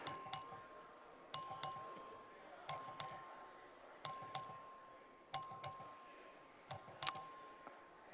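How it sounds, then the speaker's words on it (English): A bell rings in short double strikes, repeating about every one and a half seconds, bright and metallic with a lingering tone, no voices heard. "The clerk will ring the bell."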